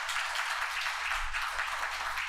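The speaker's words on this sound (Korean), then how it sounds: "박수하겠습니다" A church congregation applauding during a Sunday morning service, a sustained wash of many hands clapping at an even level, moderately distant and without talk.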